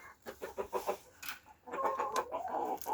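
Hens and a rooster clucking and squawking nearby as they sit eating in a backyard coop, several overlapping calls rising and falling in short bursts with no talk.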